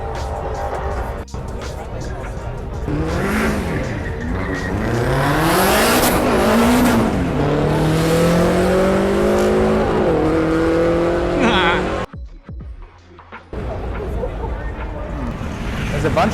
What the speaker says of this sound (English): it looks like we do have a race going on here